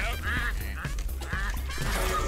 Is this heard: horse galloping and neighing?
no